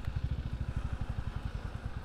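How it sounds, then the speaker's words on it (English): A Royal Enfield motorbike engine chugs in a steady, low, rapid pulsing thump, close and continuous for a couple of seconds, with no talking over it. "The chug of that engine."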